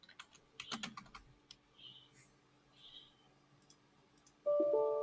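Password being typed on a computer keyboard, a burst of quick close clicks followed by a few sparse keystrokes, then a louder hum at the end.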